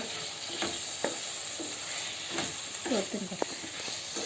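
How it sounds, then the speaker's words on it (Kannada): A coconut mixture sizzles and bubbles in a pan of drumstick curry, a steady fry hiss broken by a few scraping stirs and clinks. "ಈಗ ಇದ್ರೊಳಗೆ ಕೊಬ್ಬರಿದ ಮಿಶ್ರಣ ಹಾಕ್ತಾ ಇದ್ದೇವೆ ಅದು ಹಾಕೊಂಡು ಚೆನ್ನಾಗಿ ಬೇಯಿಸ್ಕೋಬೇಕ್ರಿ"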